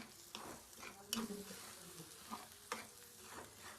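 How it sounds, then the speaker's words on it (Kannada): Beaten eggs fry quietly in a pan for egg rice, giving a soft, low sizzle with a few sharp spatula scrapes and taps against the pan, heard up close but faint. "ಸೊ ಇದನ್ನ ಎಗ್ ಬುರ್ಜಿ ಅಷ್ಟು ಕನ್ಸಿಸ್ಟೆನ್ಸಿನಲ್ಲಿ ಫ್ರೈ ಮಾಡ್ಕೋಬೇಕು ಗೈಸ್."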